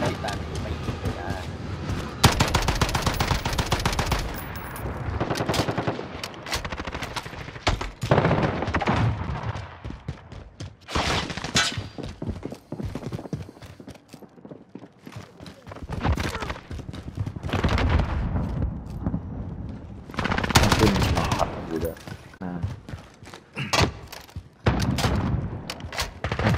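Bursts of gunfire in Call of Duty: Modern Warfare, loud shots coming in clusters separated by quieter gaps, with someone talking in between.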